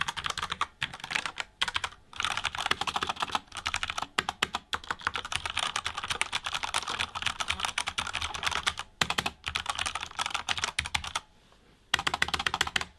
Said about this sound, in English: Here is a quick example of the keyboard in use.